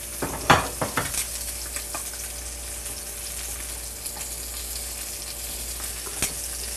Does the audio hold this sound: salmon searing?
yes